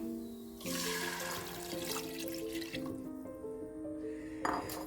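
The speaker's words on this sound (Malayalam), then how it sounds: "അത് നമുക്കിതിലേക്ക് ഒഴിക്കാം" Chicken stock pours steadily into a pot for several seconds, a close gurgling, rising stream that ends with a brief splash, no talking.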